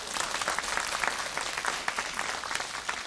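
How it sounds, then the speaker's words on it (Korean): A church youth group claps steadily and densely throughout, a sustained round of applause at moderate distance during a worship service, with no voices standing out. "청년의 자축의 박수입니다."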